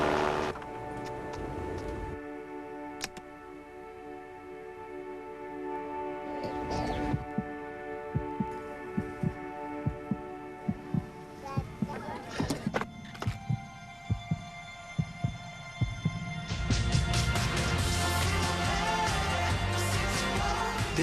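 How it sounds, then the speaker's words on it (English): A song built from the heartbeats of children in need: soft thumping pulses and sustained tonal layers, with rhythmic thuds growing denser midway and a brighter, fuller swell near the end. "This song was created with heartbeats of children in need."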